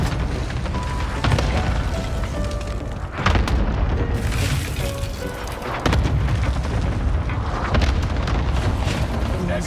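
Heavy, rumbling explosions from a Nebula 5 cluster strike bombardment in a video game, rolling continuously with fresh loud blasts hitting around three and six seconds, dense and close with no talk.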